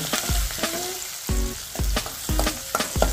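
Curry leaves and turmeric sizzling in hot oil while tempering kadhi, steady frying hiss broken by a run of sharp spoon-on-pan clinks and scraping stirs, close and fairly loud, with no voices.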